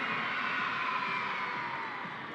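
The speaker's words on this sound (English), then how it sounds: "Let's hear your cheer." Schoolchildren cheer as a crowd inside a short track speed skating arena, a steady, dense wash of young voices and whoops filling the space at even loudness throughout, with no single voice standing out.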